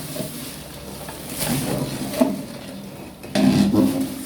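A thick sweet mixture of khoa, milk, rice and sugar being stirred in a large pot, with soft scraping and clanking of the utensil against the pan and a louder scrape near the end.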